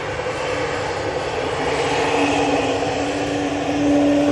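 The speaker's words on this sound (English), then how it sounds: "I love the A320 Neo going out next." An Airbus A320neo on Pratt & Whitney engines departs from Manchester Airport with a loud, steady jet roar, rising slightly and gaining a whining tone near the end, heard from a spotting position with no talk.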